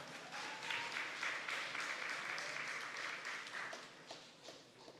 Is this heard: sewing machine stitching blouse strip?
no